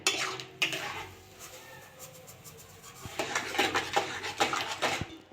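A spoon stirs homemade tomato sauce seasoned with Kashmiri chilli powder and sugar in a pan, producing close metallic clinks and scrapes. Sparse at first, the contact sounds grow busier and more rapid toward the end.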